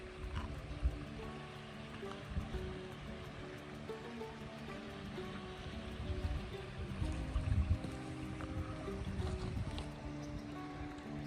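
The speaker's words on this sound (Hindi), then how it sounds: "पानी की आवाज़ आ रही होगी आपको" Steady rushing water of a deep stream fills the scene at Haldighati, a continuous broad wash with occasional louder surges, close and fairly strong, with no voices.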